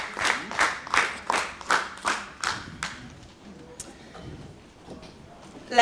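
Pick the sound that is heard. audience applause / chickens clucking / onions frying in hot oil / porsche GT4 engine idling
audience applause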